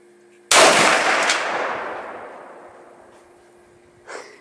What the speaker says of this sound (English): Here's Dylan Wood, the infamous, shooting our 50 caliber BMG.